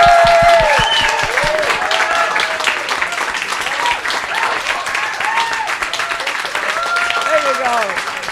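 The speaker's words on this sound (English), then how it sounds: "please thank the panel by whooping and clapping and making lots of noise" Audience at a panel session in the Nature Positive Pavilion at COP16 applauds loudly with whoops and cheers, sustained dense clapping over about eight seconds, with a voice whooping over it.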